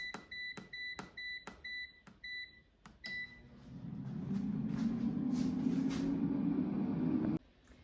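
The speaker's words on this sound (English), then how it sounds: "Now the air fryer is done cooking, so let's take a look." An air fryer beeps when its cooking cycle finishes: a series of sharp, evenly spaced electronic beeps up close, followed by a steady fan whir that runs for a few seconds and then cuts off.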